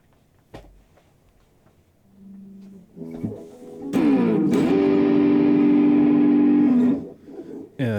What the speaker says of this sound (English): if I have my guitar, and this is at sort of a medium distortion level, I'm going to play a couple notes